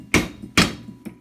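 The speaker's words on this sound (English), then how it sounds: "This took just a little bit of hammer persuasion first off." Hammer blows knocking pins out of a rusty Hi-Lift farm jack: two sharp, loud metallic strikes about half a second apart, then a lighter third tap, with no talking.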